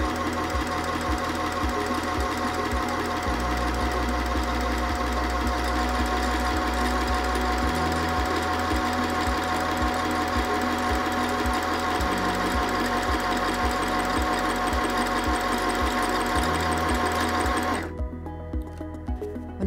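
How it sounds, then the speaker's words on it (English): An M1000 sewing machine winds thread onto its bobbin with a steady, dense mechanical whir that runs loud and unbroken for most of the span, then cuts off abruptly near the end as the winding stops. "you can continue winding until you have as much thread on your bobbin as you want"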